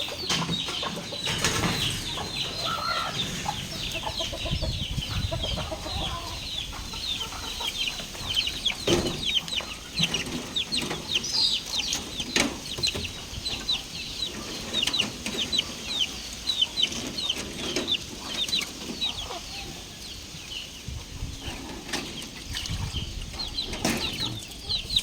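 Young chicks in a pen with iron bars cheep and cluck continuously in a dense, busy chorus, with occasional wing flutters and soft knocks mixed in.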